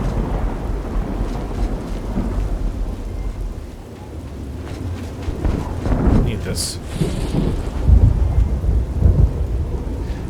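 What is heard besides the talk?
rain and thunder in a video game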